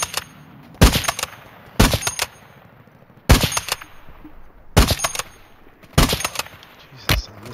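Automatic gunfire in the Warzone battle-royale video game comes in six short, loud bursts spaced about a second apart, with quieter game ambience between them.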